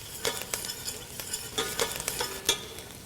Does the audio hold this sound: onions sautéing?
yes